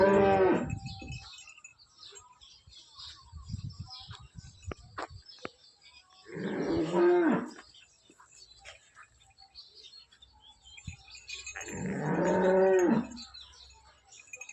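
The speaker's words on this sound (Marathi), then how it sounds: "याच्या टॉप क्वालिटीची गाय" At a cattle market, a cow moos three times at spaced intervals, each call a drawn-out, fairly close bellow, with faint chirps and quiet rustling in the gaps.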